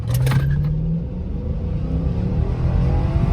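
Lexus LS430 with traction control off accelerates hard from a stop, giving a brief rising engine note that quickly settles into a deep, steady low rumble of road and engine noise from inside the car.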